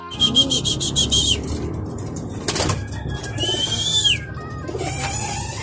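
Pigeons in a loft give short, close chirps and calls, including a quick run of repeated high notes, over a steady low background rumble.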